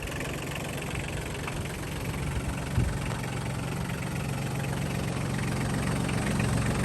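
A 1998 Kubota B1750 diesel 4x4 tractor with a snowblower attachment idles with a steady, low, knocking rumble nearby, continuous throughout, with one brief clunk midway and no talking.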